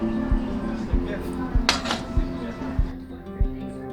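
A metal pizza pan holding a freshly baked homemade no-yeast pizza gives a few clinks and a bright metallic rattle as it is handled, over a steady, evenly spaced thumping beat.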